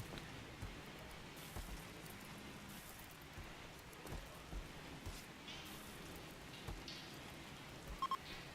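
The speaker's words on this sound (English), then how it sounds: "It's now raining on top of the toxic fallout." Rain falls in the video game RimWorld over a colony during toxic fallout, a quiet, continuous patter with occasional faint rumbles, low in level and without speech.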